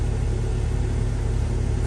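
The 3208 engine of a Wanderlodge motorhome rumbles low and steady while driving, its deep drone continuous with a faint rhythmic pulse underneath.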